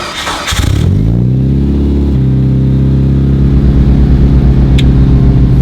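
A Mitsubishi Evo, rebuilt after a crash with frame damage and running on E85 fuel, cranks for about a second before catching, then settles into a loud, steady, throaty idle with a slight rise in revs, very close.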